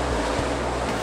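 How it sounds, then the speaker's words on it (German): Water gushing into a flooded fire brigade training cellar, a steady broadband rush like surf that fills the whole short moment, loud and close with no voices. "Also Wasser kommt rein."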